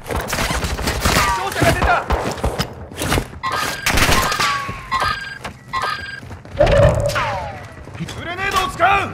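Bursts of gunfire and thuds ring out during an enemy attack in the Building 21 DMZ mode of Call of Duty: Modern Warfare II, with voices talking between and over the shots.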